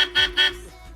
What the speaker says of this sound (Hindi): देखो 2 तरीके से हमारे हॉर्न बज रहे हैं अभी